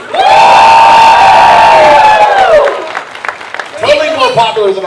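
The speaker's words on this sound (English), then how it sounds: "give me a big round of applause for Jason David Frank!" A convention crowd at a fan reunion panel lets out a loud, sustained cheer with whoops and shouts, then it fades into scattered clapping and voices.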